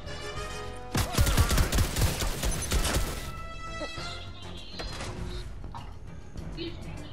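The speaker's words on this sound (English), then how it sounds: "Somebody's shooting me." Bursts of rapid gunfire in Fortnite crackle loudly for a couple of seconds, then give way to quieter clanks and game effects as a player talks in between.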